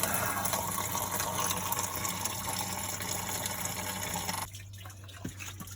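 Fluid draining steadily from a Case 188d tractor, a continuous close, loud trickling-splashing wash that runs for about four seconds before abruptly cutting off, leaving a low hum and faint drips.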